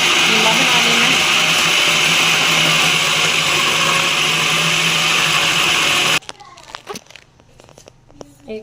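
A blender or grinder whirs loudly and steadily, mincing meat into keema for chapli kebab, then cuts off abruptly about six seconds in, leaving quiet handling clatter and faint background voices.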